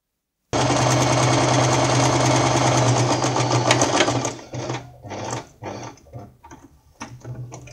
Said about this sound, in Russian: Прокладываю вторую строчку.